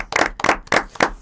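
Four slow, separate claps in an even rhythm at a children's short-story contest award event, close and fairly loud, with short silences between them and nothing else heard.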